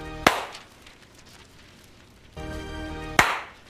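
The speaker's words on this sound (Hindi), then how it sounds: "इसलिए ट्रांजिशन वाली ताली बजा देते हैं" Two sharp hand claps about three seconds apart, each a loud, close, crisp smack with a short ringing tail, separated by quiet background hum and a burst of music before the second clap.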